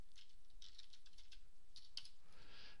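Rapid, light keystrokes on a computer keyboard during AutoCAD .NET programming work, irregular bursts of close clicks with no speech.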